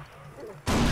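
A grenade explosion in Far Cry 3 bursts in loud and close after a quiet stretch, with a dense roar lasting to the end.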